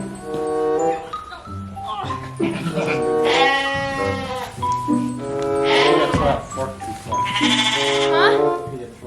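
Big, heavy farm sheep bleat repeatedly and loudly nearby while being moved into a barn for winter, several long wavering calls overlapping with people talking and coaxing them.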